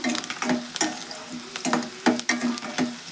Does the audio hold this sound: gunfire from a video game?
no